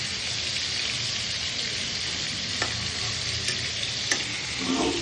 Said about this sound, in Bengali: দেখুন হালকা করে মাছ ভেজে দিয়েছি